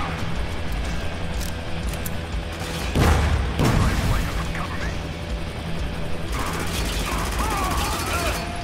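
Gunfire in the video game Spec Ops The Line during co-op play, with two heavy booming bursts near the middle standing out above a steady, busy game background.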